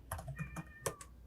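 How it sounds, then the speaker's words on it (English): A house cat mews faintly in the background with a thin, rising tonal cry, mixed with soft clicking of computer keyboard typing close by. "If you can hear our cat in the background."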